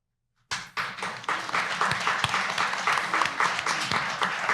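After a brief silence, an audience at a community violence-prevention talk in Louisville breaks into loud, close applause, with sharp individual claps over a steady clapping wash.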